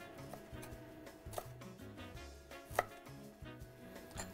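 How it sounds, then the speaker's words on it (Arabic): Knife chopping an onion into very thin slices on a cutting board, a steady run of light, close taps with a few sharper knocks, quiet and alone without talk. "قطع البصل لكتير شرحات كتير ناعمة"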